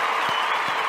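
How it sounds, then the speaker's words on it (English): Loud studio audience applause for a college football defensive back transfer guest on a sports talk show, a short dense burst of clapping filling the space alone. "let's give him a round of applause"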